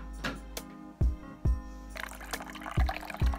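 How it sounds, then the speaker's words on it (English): Warm water from a kettle pours into a container indoors, a low running splash broken by several soft thuds and clinks, close by and fairly quiet, with no voices. "So the next thing you need is actually warm water, and I have a kettle in the room, so I'm just going to do that."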